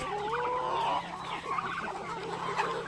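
Rhode Island Red chickens cluck and murmur continuously nearby, with a few louder calls over a steady background hum.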